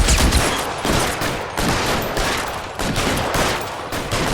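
Sustained gunfire in the video game L.A. Noire, a dense, loud fusillade of rapid shots and machine-gun bursts in rhythmic waves, with no speech.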